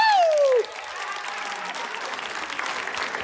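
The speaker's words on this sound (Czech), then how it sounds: "Dámy a pánové, v tuto chvíli prosím velký potlesk pro Bobíka." A television studio audience bursts into loud, dense applause for Bobík right after a falling whoop, the clapping steady and sustained to the end.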